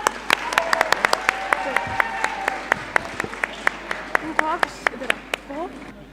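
Applause breaks out at an inter-school debate as the winning school is announced, with crisp individual claps scattered irregularly from a modest crowd while voices carry underneath.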